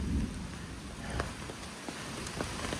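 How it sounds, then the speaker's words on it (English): Rain falls steadily during a thunderstorm on the Appalachian Trail, with low rumbling thunder underneath and scattered drops hitting nearby surfaces. "It thundered right over the top of me."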